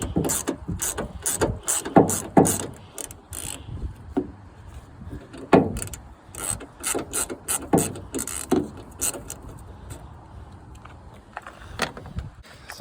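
Ratchet with a 10 mm socket loosening headlight bolts, rapid clicking bursts repeating in quick strokes with short pauses, close and fairly loud, no talking.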